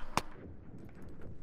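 A grenade thrown in a video game goes off as one sharp, loud blast, then the noise fades to quiet background game sounds.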